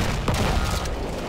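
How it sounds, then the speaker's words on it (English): A bomb explosion in the Battlefield 1 shooter game: a single dense, rumbling boom that swells quickly and rolls on for about a second, loud and close, with no voices over it. "Oh, that's a bomb."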